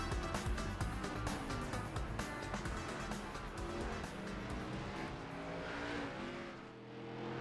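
Race car engine from the GSRC SK mod in a sim racing game at Southern National Motorsports Park, loud and continuous, revving up and down through gear changes, with a brief light tire squeal.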